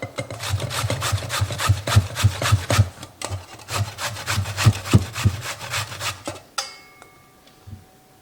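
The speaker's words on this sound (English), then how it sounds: "I cut the bottom, I'm gonna cut the top, and I'm gonna grate it." Green squash (zucchini) being grated by hand, a steady rhythmic rasping of quick strokes that runs loud and close for about six seconds, then stops and leaves quiet room tone.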